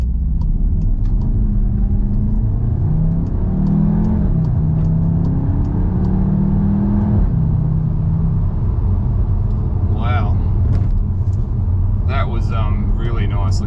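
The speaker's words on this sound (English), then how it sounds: "I'll just try a bit of standing start acceleration" A 2022 VW Tiguan R pulls away from a standing start, its engine rising in pitch through several gears with audible shift dips, heard from inside the cabin, followed by someone talking over the road rumble.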